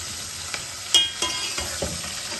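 Onion and garlic fry in a pan with a steady broadband sizzle, broken by several short stirring scrapes and knocks, close and moderately loud, with no voices.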